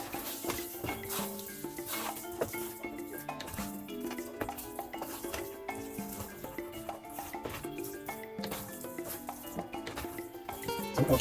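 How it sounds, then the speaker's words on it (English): Chicken and seafood paella with saffron stirred in a pan, a steady run of scraping and clinking with soft sizzling underneath, continuous and fairly close throughout. "keep stirring, keep stirring, keep stirring"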